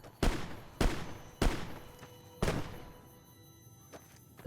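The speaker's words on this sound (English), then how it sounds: "The hell is all the gunfire for?" Gunfire in the modded, hardcore-mode Fallout: New Vegas video game, four loud sharp shots spaced about a second apart, each trailing into a ringing echo, followed by a fainter distant pop.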